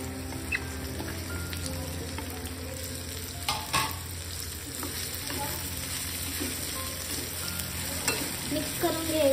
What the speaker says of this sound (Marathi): मस्त मिक्स झालं की ही जी आपण बारीक चिरलेली भेंडी आहे ती यात ॲड करायची आहे।